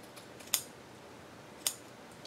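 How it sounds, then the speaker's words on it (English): Pinking shears cutting fabric, heard as two crisp, close snips spaced about a second apart against a quiet background. "I think I'll use my pinking shears."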